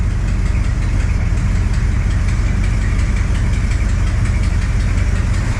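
Square-body dually pickup truck idling as it warms up after a tune-up, a steady low rumble with a slight exhaust leak, running continuously and close by with no talk.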